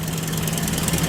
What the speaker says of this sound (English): that is a straight 8-cylinder engine there